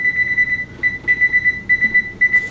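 Oven timer beeping in short repeated bursts of clear, high electronic tones as it is set, fairly loud and close, with faint kitchen background and no talk.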